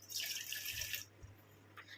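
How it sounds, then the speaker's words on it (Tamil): Water from a tumbler pours into a kitchen cooking vessel in a short, faint splashing stream that stops after about a second, followed by a couple of soft drips. "இதில் வந்து ஒரு டம்ளர் அளவுக்கு நம்ம தண்ணி சேர்த்துக்கலாம்"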